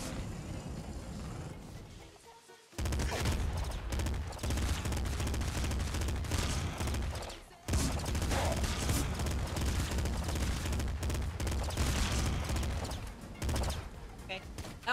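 Dense bursts of gunfire from the roguelike shooter Nuclear Throne rattle almost nonstop, loud and close, broken by a short quiet gap near the start and a brief pause midway.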